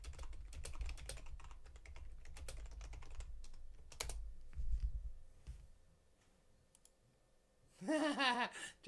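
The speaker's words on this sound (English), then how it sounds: "Hang on, I'm typing something to somebody." Close computer keyboard typing in quick uneven runs of clicks, pausing briefly before a short burst of voiced sound closes the passage.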